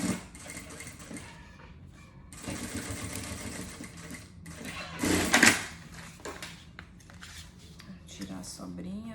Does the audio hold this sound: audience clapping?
no